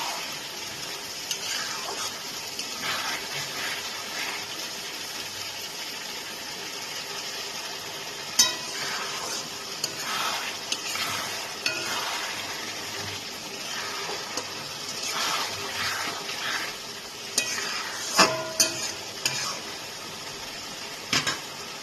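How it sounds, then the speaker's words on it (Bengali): Potatoes stirred and sautéing in a spice paste for katla fish head kalia, a steady low sizzle with scraping stir strokes and a few sharper clanks of the spoon against the pan, close and continuous. "আলুগুলোকে দিয়ে এবার আমি কিছুক্ষণ এটাকে কষাবো"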